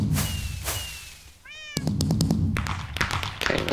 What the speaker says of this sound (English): set up a firework and meow